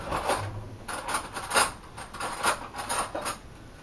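Hard homemade candy tapped and cracked with the back end of a knife, a run of sharp, close clicks and cracks in an uneven rhythm over a quiet kitchen background, with no voices.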